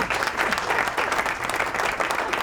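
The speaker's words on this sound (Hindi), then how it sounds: "तालियां हो जाए" Studio audience clapping steadily throughout a televised Ramadan quiz show, a dense, even burst of applause heard alone without talk.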